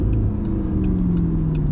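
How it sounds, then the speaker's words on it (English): A car with a gated six-speed manual gearbox revs its engine: a loud, close, continuous engine roar holding a fairly steady pitch throughout, with no voices. "Rev it up."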